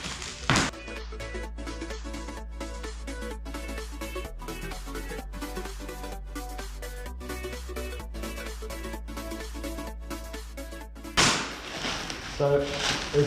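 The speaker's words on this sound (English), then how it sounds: "I'm just gonna use my trusty screwdriver to open the plastic here." A screwdriver works at plastic packaging, making a dense run of sharp taps, clicks and crackling snaps close by, ending in a louder burst of plastic rustling.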